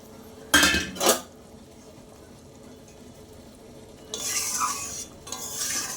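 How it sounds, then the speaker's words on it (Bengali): Pieces of bhola fish are slid into a pot of simmering spicy curry. Two short, loud splashes with a sizzle come first, followed later by longer hissing, bubbling stretches and a few utensil clinks, all close by and without talk. "এখন আমি মাছগুলো দিয়ে দিচ্ছি"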